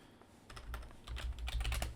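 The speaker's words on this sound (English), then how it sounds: "I'm going to leave in the typing so you guys know that I'm thinking real hard about this." Typing on a computer keyboard, a brisk series of close, soft key clicks that speeds up and grows louder toward the end, with no talking.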